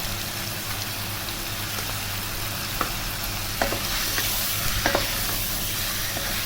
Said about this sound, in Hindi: इसको हमें अच्छे से भूनना है